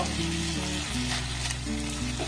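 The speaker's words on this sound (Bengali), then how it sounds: "এবার সমস্ত উপকরণ খুব ভালোভাবে এইভাবে আমি নাড়াচাড়া করে নেব।" Chilli paneer ingredients being stirred with tomato sauce in a pan for a vegetarian restaurant-style dish, a steady close sizzle with spatula scraping, background music playing underneath and no voices.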